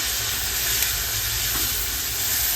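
A gravy thickened with crushed peanuts and sesame sautés in a pan for a Kathiyawadi whole-onion curry, producing a brief, steady, close sizzling hiss with no voices.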